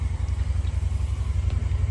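A 1969 Ford 4000 tractor engine idles close by with a steady, rapid low chugging pulse and no talk over it.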